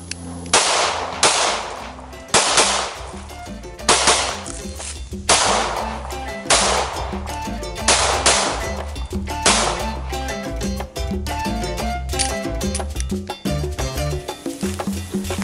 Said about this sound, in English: Let's shoot it a little more.